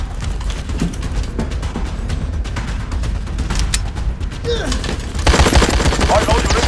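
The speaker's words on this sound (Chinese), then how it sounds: "二楼有人开枪，有人开枪！" Rapid bursts of gunfire crackle through a police raid on the second floor in an action film, dense and loud, growing harsher toward the end amid shouting and clatter.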